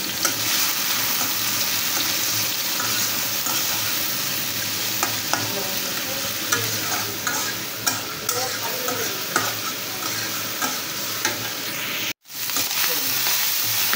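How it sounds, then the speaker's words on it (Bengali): Prawns coated in turmeric and salt fry in hot oil in a wok, a loud continuous sizzle with repeated stirring scrapes and a brief break near the end, no talking. "তো কড়াইয়ে তেল দিয়ে আগে চিংড়ি মাছগুলো আমি একটু ভেজে নিচ্ছি।"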